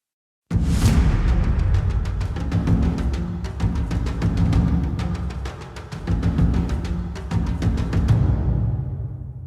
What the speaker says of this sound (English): so that you can hear what the djembe ensemble is contributing